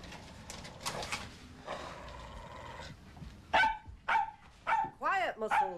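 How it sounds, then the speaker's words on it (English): A dog barks several times in short sharp bursts close by, following a stretch of other indoor sounds and voices. "I don't know why that dog is such an aversion to me."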